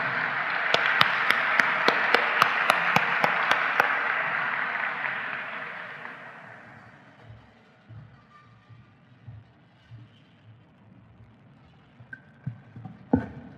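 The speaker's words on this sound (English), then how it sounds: "So please give a round of applause for Neil Brown." A banquet-hall crowd at the Pulitzer Prize dinner applauds Neil Brown: dense, loud clapping that fades out over several seconds into quiet room murmur and a few knocks.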